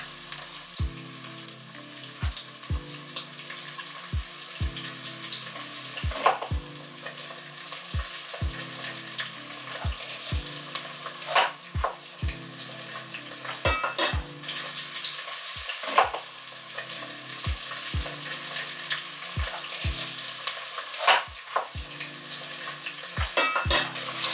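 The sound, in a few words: stir-frying shrimp and squid with black bean sauce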